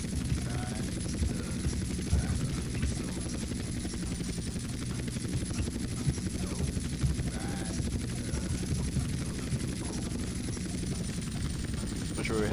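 A helicopter in the multiplayer mode of the video game GTA San Andreas gives a steady, loud rotor drone throughout, with gunfire-like bursts and voices in the background.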